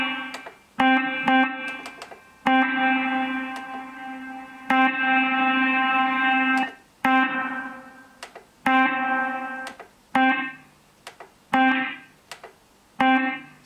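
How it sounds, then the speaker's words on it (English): Guitar notes and chords played one after another through a Behringer V-Ampire LX-210 amplifier with the reverb turned right up, each drenched in heavy reverb that hangs and rings on before the next strum. "Let's turn the reverb control right up so we can hear what's going on."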